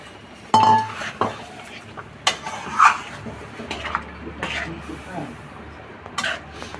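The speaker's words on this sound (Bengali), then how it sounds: "একটু বাটি ধুয়ে জল দিয়ে দিচ্ছি।" Someone rinses a bowl while making a vegetarian spinach and potato curry: close, sharp clinks of dishes and cutlery, with a few soft splashes and a light hiss of water between the knocks.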